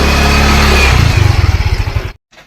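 A motorcycle engine runs loud and close, holding a steady drone before breaking into rapid pulsing revs that cut off abruptly near the end, followed by a brief faint rumble.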